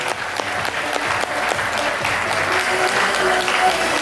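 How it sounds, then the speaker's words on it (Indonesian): Seminar audience at the Patra Jasa hotel in Semarang claps together in sustained, dense applause that holds at a steady level for the whole stretch, with no voices on top. "Beri aplaus buat Bapak Ibu semua"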